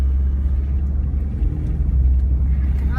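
A car driven by a young learner driver rumbles steadily from inside the cabin, a loud low engine drone with a faint voice briefly audible over it.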